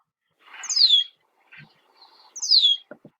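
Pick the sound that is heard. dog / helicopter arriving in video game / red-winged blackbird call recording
red-winged blackbird call recording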